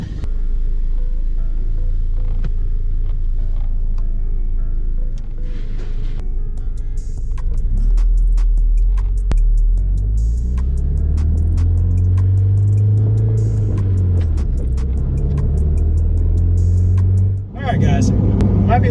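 A car engine drones steadily while driving, with a low rumble that rises and falls under a person talking over it throughout.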